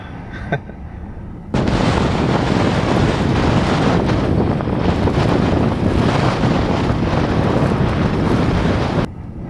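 Loud, roaring hurricane-force blizzard wind batters the microphone beside a van in a sustained blast that starts abruptly and cuts off near the end, with no voices.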